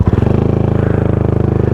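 Small motorcycle engine dropping to an idle ramble after a ride, a loud, close, steady rapid thumping pulse with a brief burst at the start, no talking.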